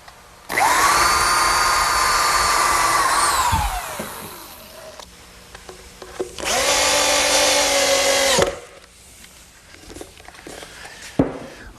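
A power drill drives drywall screws into sawhorse legs in two long, loud whirring runs that wind down at the end of each, separated by a pause with clatter and handling noise, ending in a sharp knock.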